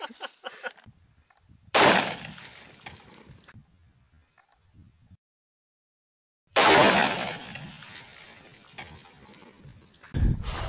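A .44 Magnum Ruger Super Blackhawk revolver fired outdoors, two loud single gunshots several seconds apart, each a sharp blast with a long ringing decay, with a third shot starting at the very end.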